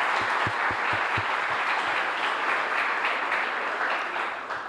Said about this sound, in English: I think we should give another round of applause to these wonderful people who stood up here and talked about why they give.